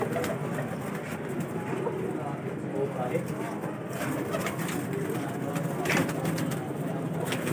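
Highflyer pigeons coo softly and repeatedly in a loft in Lahore, a low, steady burble that runs throughout under people talking.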